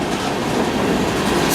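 A freight train rolls past at close range in Seattle, carrying mixed-railroad cars, its steady wheel rumble and clickety-clack filling the whole stretch without a break.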